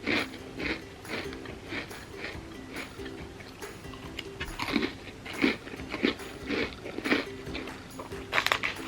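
Someone bites and chews Trader Joe's cookie butter cookies, airy biscuits likened to Lotus Biscoff, producing soft intermittent crunches and mouth clicks close up, with faint background noise and no talk.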